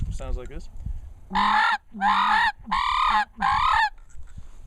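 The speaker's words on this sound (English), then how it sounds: "But get them to come in, I'll start using a crane call." Someone speaks briefly, then four loud, honking rattles are blown on a sandhill crane hunting call, evenly spaced with short gaps between them.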